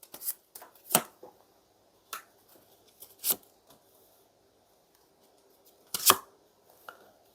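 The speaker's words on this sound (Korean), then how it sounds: "3개월 동안 있을 일들 카드 조금 더 뽑아볼게요." Tarot cards shuffled and drawn: a few sharp riffling bursts and soft card slaps spaced across a quiet stretch, close and crisp, with no voices.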